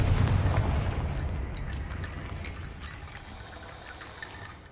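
The Confringo blast spell goes off in the Hogwarts Legacy video game: a single loud, close explosive burst opens the clip, and its deep rumble fades away over the next few seconds.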